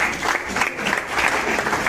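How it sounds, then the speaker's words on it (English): An audience at a Microsoft event on Azure Static Web Apps gives a round of applause. Dense, continuous clapping fills the whole stretch at a steady level, with no talk. "please give him a round of applause"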